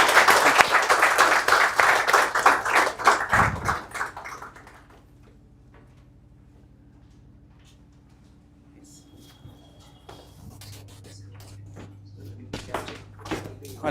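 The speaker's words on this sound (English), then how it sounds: "Give him a big round of applause." An audience claps in a loud burst for about four seconds that quickly dies away, followed by a quiet room with scattered soft clatter and faint, occasional speech.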